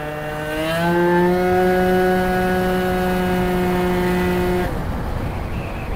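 A Piaggio Zip scooter fitted with a Stage6 kit revs up to about 11,000 rpm, a loud, close engine whine that climbs quickly, holds steady at a high pitch for several seconds, then cuts off abruptly.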